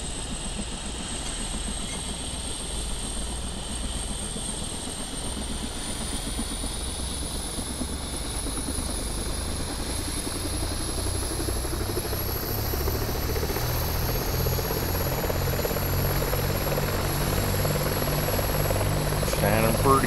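Simulated Bell 412 helicopter engines spool up in a flight simulator sound mod, a steady, loud turbine whine and rotor drone rising gradually in pitch and intensity throughout, with low thumping building toward the end.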